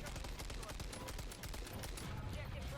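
Rapid automatic gunfire from a new weapon in the video game Modern Warfare III, a dense, continuous burst of loud shots filling the whole moment with no pause.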